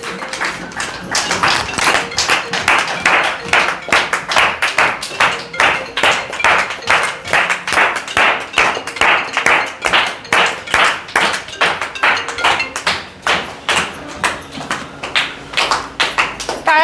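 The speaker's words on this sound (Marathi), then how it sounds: "सगळ्यांनी टाळ्या वाजवायच्यात" A group of people clap their hands together in a steady, rhythmic beat at a paralysis rehabilitation centre, the claps loud and close, continuing without pause and with no talk over them.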